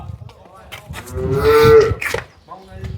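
A cow gives a single loud, drawn-out moo, rising and then fading, close by at a cattle market with faint background noises.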